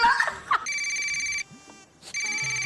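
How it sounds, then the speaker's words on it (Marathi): A telephone rings indoors with a repeated electronic ringtone in bursts, clear and fairly loud, after a brief voice at the start. "थांब, त्यांचा फोन आहे."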